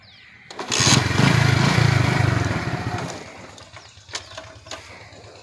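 A motorcycle engine bursts into a loud rev, holds for about two seconds, then dies away, leaving a few sharp mechanical clicks and rattles afterward.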